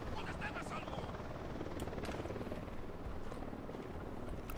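Steady, dense helicopter rotor thrum from Ghost Recon Wildlands, close and loud, holding evenly throughout with no break.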